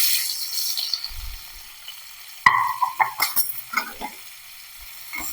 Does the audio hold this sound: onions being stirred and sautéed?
yes